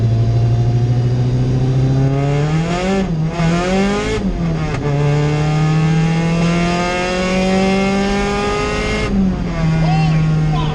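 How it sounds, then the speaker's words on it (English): A car fitted with a Jackson Racing supercharger accelerates hard at full throttle, its loud, close engine note climbing steadily in pitch, with brief dips at the gear shifts before it pulls up again. "As soon as we get some open road, I'll hit it again"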